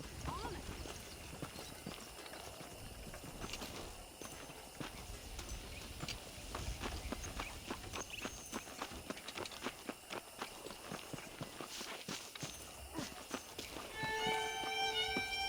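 Horse hooves clip-clop steadily in Red Dead Redemption, a continuous rhythmic trotting beat throughout with faint background game ambience and a brief tonal chime near the end.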